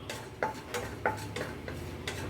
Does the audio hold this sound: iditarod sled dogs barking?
no